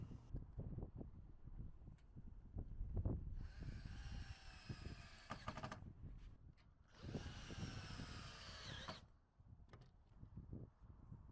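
A power screwdriver driving screws to fasten metal roofing strips on a tiny house roof, with two whirring bursts of a few seconds each amid faint tapping and handling noises.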